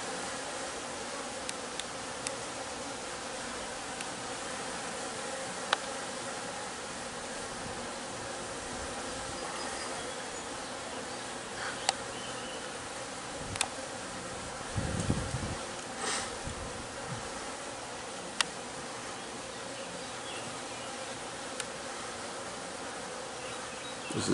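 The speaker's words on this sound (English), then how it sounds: "there are just tons of bees here." A dense, steady buzzing of many bees fills the air continuously, with occasional louder drones passing close by.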